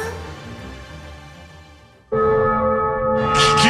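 A funeral bell in a video game trailer tolls with one loud, resonant strike that rings out over a fading earlier tone, followed by a bright, higher shimmer near the end.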